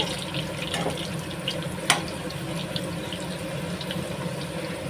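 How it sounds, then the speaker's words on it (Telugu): Okra (bendakai) pieces frying in oil in a pan, a steady close hiss and sizzle running throughout with a brief sharp crackle partway through. "ఇలా రెండో వాయి కూడా వేసేసి ఇవి గోల్డెన్ కలర్లో వచ్చే వరకు ఫ్రై చేసుకుందామండి"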